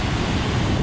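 A popular waterfall seen on a walk gives off a dense, constant rushing roar, close and full, across a brief moment with no talk.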